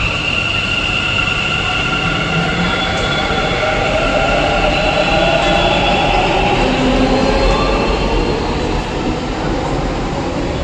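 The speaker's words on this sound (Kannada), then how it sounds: "ಮೆಟ್ರೋ ಆ ಕಡೆಯಿಂದ ಹೋಗ್ತಾ ಇದೆ" A Bangalore metro train rumbles past loudly and continuously, with faint metallic squeals riding over the steady roar of the wheels.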